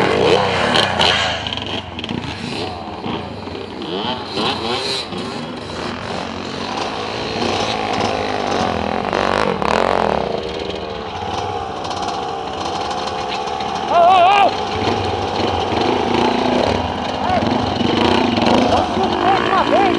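Two-stroke motorcycle engines rev and whine up and down, loud and close, with people talking over them and a sharper rev burst near the end.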